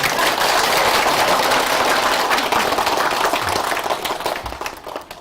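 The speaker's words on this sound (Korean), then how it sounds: "네, 저를 위해서도 박수 한번 칩시다." A seated audience at a Buddhist college lecture at Bongeunsa temple bursts into sustained group applause, thick and continuous at first, then thinning and tapering off over the final second or two.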